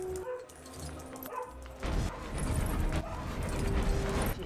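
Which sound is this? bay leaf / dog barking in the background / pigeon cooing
dog barking in the background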